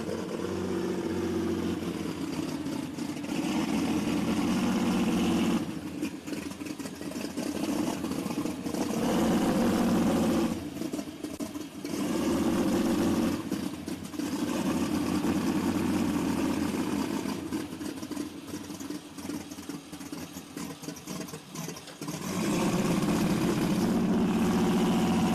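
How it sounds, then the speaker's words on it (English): A John Deere pulling tractor roars through a tractor pull at the Elkhart County 4-H Fair, its heavy engine droning continuously with surging revs and steady loud power for the whole run. "So here comes that John Deere out of time from Waupun, Wisconsin."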